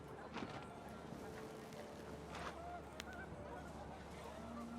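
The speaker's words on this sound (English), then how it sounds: "The wind picked up, and panicked geese appeared and quickly went." Panicked geese honk faintly a few times over windy ambience in the video game What Remains of Edith Finch, brief calls scattered across a steady rushing background.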